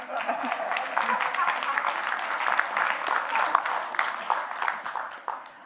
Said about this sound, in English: So I'd like you to give Debbie a round of applause for being so diligent in finding a man.